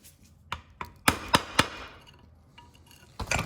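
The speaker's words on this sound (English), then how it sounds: "So you can get in there with the chisel." A chisel chips flaky rust and scale off a rear brake rotor on a 2016-2021 Honda Civic with electric parking brake: about six sharp, close metallic strikes at irregular intervals, with quiet gaps between.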